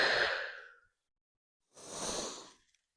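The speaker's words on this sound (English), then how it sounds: "And exhale." A person exhales audibly during a breathing exercise in a senior strength-training routine: a long breathy outbreath, a pause of silence, then a second steady exhale through the nose or mouth, close and clear with no talking.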